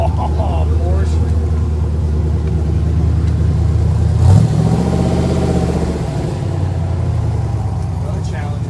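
Porsche car engine at an outdoor car show, a steady low rumble with a brief rev near the middle, heard under nearby crowd chatter and someone talking.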